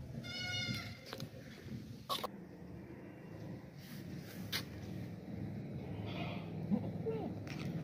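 A dairy goat offered for sale gives a wavering bleat near the start, heard close over a noisy outdoor background with people talking around it.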